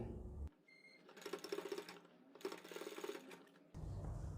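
A sewing machine runs in two steady bursts while stitching a frill onto a neckline, its fast mechanical whir close and even, with quieter handling sounds at the start and end.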